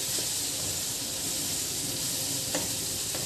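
Banana blossom sautéing in a pan for dinuguan, a steady close sizzle and fry with a couple of soft stirring clinks, no talk.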